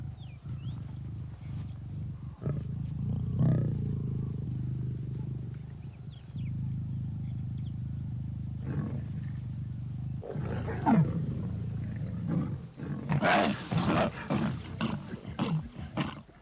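Male lions, just after fighting over a lioness, give deep, rumbling roars and growls, loud and close, in several drawn-out bursts with a rising chorus of grunting roars near the end.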